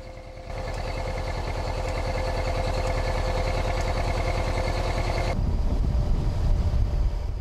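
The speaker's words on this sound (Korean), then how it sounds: "보트로 3시간을 조금 넘게 들어가자" A motorboat engine drones with a steady pulsing throb as the boat travels upriver through jungle, accompanied by wind buffeting and rushing water; the engine tone shifts and roughens near the end.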